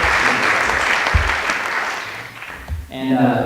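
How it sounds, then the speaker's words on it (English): A graduation audience gives a loud round of applause, dense clapping that tapers off after a few seconds as a voice starts speaking. "I want to give one last round of applause for everybody here"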